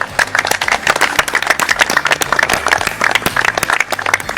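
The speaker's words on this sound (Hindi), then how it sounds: "मीनाक्षी, पद्मा के लिए जोरदार तालियां हो जाए भाई एक बार" Audience applause for the winners of a contest at a yoga session, a few seconds of uneven, fairly loud clapping from a small group.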